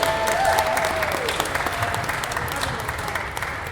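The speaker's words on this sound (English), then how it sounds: "Let's hear a big round of applause for you Westsiders over here." A crowd at a Westside candidate forum applauding, dense and loud from the start, then tapering slightly while staying sustained, with a faint tonal hum at the beginning.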